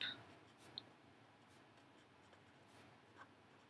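Faint pen strokes scratching across paper as notes are written, soft continuous scraping with a few brief louder touches, quiet and close with no talking.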